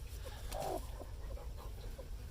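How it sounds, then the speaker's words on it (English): A broody hen sitting on a clutch of duck eggs gives a few soft, low clucks close by, set against a steady low rumble of background noise. "And my broody chicken."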